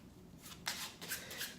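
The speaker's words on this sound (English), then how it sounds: "I'll give the cards a overhand shuffle like this" A deck of playing cards gets an overhand shuffle, soft papery riffles and slaps in a few quick bursts, close and fairly quiet with no talk.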